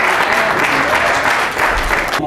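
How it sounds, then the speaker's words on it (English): A church congregation applauding at a Sunday School service, loud, dense and steady clapping from a full room filling the whole moment. "Give him a hand as he comes."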